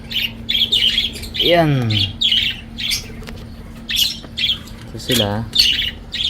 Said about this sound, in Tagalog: So ito po yung mga budgerigar natin.